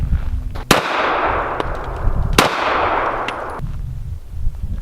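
Two sharp pistol shots from a Mossberg MC1 firing Fiocchi ammunition at an outdoor range, each a loud crack followed by a long ringing decay, with a faint metallic clink near the end.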